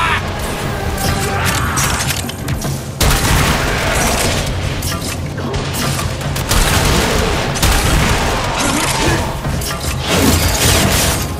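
Loud, dense volleys of gunfire and booming impacts rattle through a firefight in the video game Warframe, nearly continuous with short breaks and layered crashes and mechanical clatter.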